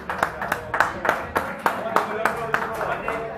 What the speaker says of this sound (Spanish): un aplauso a ustedes